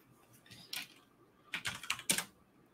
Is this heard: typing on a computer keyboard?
yes